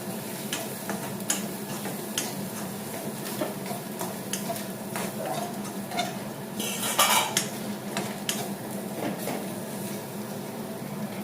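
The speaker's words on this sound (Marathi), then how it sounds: "आणि चांगलं असं परतून घ्यायचं" Onion, garlic and masala being sautéed for a chickpea curry, with a soft sizzle under repeated clinks and scrapes of a spoon stirring in the pan, no talking.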